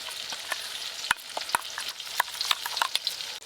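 Ground spice paste of green chilli, turmeric, coriander powder, Kashmiri red chilli powder and sugar being stirred together in a hot pan for an aloo soybean curry, with a steady soft sizzle and sharp spoon clinks and scrapes at irregular intervals.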